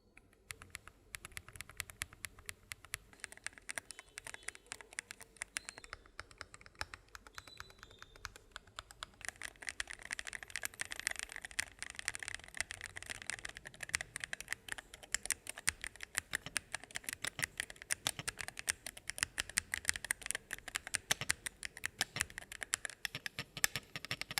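Steady rapid keystrokes on a Skyloong GK68HE Pro hall effect gaming keyboard with five layers of damping including a silicone base pad, a soft clattering patter that grows denser and louder after the first few seconds, with no talk.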